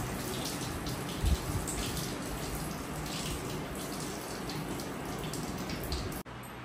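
Chana dal being washed and drained with water in a Maharashtrian home kitchen, a continuous splashing, running-water wash that carries on steadily for several seconds and then cuts off abruptly near the end.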